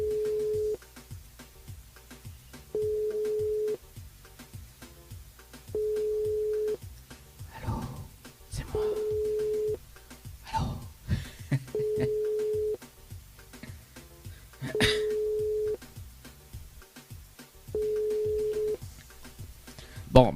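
A telephone call rings out unanswered during a live radio show. Evenly spaced ringback tones repeat about every three seconds, and people talk over the gaps between the rings.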